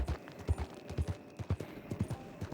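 Horse hooves clip-clop at a steady trotting rhythm in the Red Dead Redemption video game, quiet and even with no voices over them.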